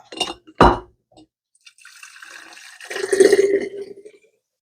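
Deer bone broth poured through a funnel into a glass canning jar, a few glassy clinks, then a thin trickle that swells into a fuller gurgling pour before tapering off, close and clear with no talk.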